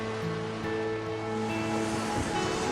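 Sea waves wash steadily at a seaside with a continuous broad surf noise, moderately loud throughout, and a faint steady hum runs underneath.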